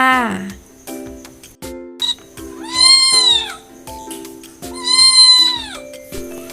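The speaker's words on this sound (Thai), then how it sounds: "ถูกต้องแล้วค่ะ เสียงพี่แมว" A cat meows twice, each a drawn-out rising and falling call, with a soft rhythmic tapping underneath and an opening jingle.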